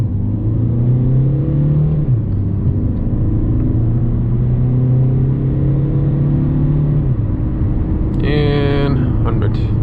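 A 2019 Mercedes A180d sedan's diesel engine accelerates hard toward 100, its drone climbing in pitch through a gear change before briefly easing; a faint electronic chime sounds near the end.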